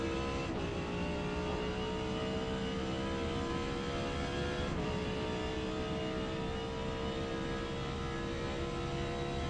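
An Audi R8 GT race car in Forza Motorsport at Yas Marina accelerating down a straight, a steady high engine drone with rising harmonics that shifts up at two gear changes, continuous and prominent with no talk.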